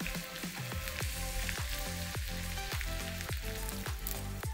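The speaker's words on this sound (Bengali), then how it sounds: "1/4 কাপ পেঁয়াজ কুচি দিয়ে একটু ভেজে নিচ্ছি" A quarter cup of chopped onion frying in oil for Bengali sajna dal, a loud, close, continuous sizzle with regular rhythmic scrapes of a spatula against the pan roughly every half second.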